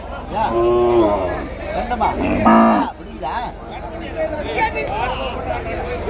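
Cattle lowing at the Vaniyambadi cattle market, several close, drawn-out moos rising over a steady hubbub of people talking and crowd noise.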